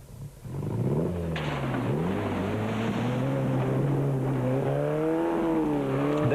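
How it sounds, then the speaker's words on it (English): A budget Class C off-road racing car drives in the 1998 Tarkastad 400, its engine droning steadily with rising and falling pitch as it revs through gears, heard continuously at moderate distance. "That's a Class C car"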